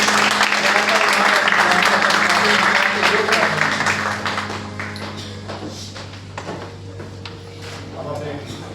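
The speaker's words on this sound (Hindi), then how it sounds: "इनाम के लिए भरपूर तालियां बजाएं।" An audience at a gathering bursts into loud applause for about four seconds, then the clapping thins and fades into scattered taps and room noise.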